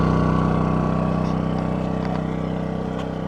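A DuroMax XP2000is inverter generator runs steadily at about half load, a close, even engine hum with a constant tonal drone and slight gradual drop in level.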